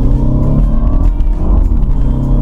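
A BMW Z4 with an automatic gearbox accelerates hard in first gear in sport mode, a loud, close engine note climbing steadily inside the cabin with the windows up.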